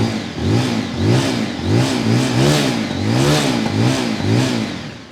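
A Zontes 350 R 350 cc single-cylinder motorcycle revs repeatedly through its exhaust, each throttle blip rising and falling in a steady rhythm. The engine is close and loud, with no voices over it.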